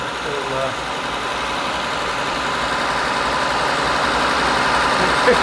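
A Honda Accord engine with idle speed stuck high, running at about 1500 RPM, holds a steady continuous drone throughout, with a voice talking over it.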